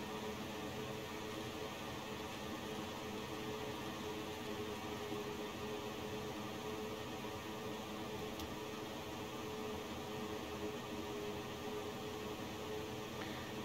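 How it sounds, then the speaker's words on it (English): Steady hiss of white noise on an HF radio channel in an Airbus A330-300 cockpit in the X-Plane 12 flight simulator, with a faint hum underneath, holding an even, unbroken level throughout with no chatter. "it's white noise you're listening through"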